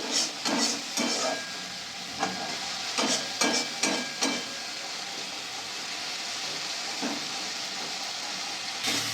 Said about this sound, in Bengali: মশলা থেকে তেল ছাড়তে শুরু করেছে।